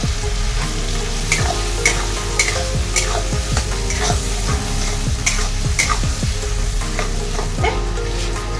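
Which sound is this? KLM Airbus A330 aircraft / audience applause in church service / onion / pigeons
onion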